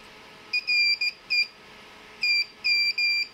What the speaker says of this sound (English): if you touch the two ends to it, it'll start beeping.